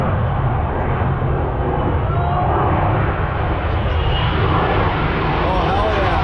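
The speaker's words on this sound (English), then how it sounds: "It's a bigger plane." A large airplane at an airshow roars overhead, a loud, broad engine rumble heard from a driveway that stays steady throughout, with people talking over it.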